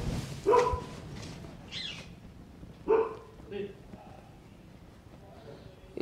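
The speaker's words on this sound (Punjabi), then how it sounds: "ਕੁੱਤਾ ਜਾ ਕਿਵੇਂ ਭੌਂਕਦਾ" Two separate barks from a dog ring out a few seconds apart, fairly close and clear, with quieter rustling and faint background noise between them.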